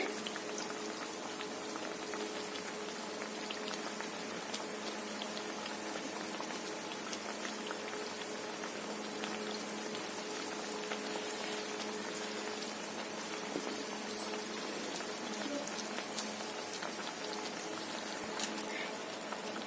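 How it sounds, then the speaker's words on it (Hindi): Bread pizza frying in oil in a pan over a medium-to-high gas flame, a steady dense crackling sizzle with fine popping that runs evenly throughout with no talk. "अब इसको फ्राई होने देते हैं। इस टाइम गैस को हम मीडियम टू हाई कर देंगे।"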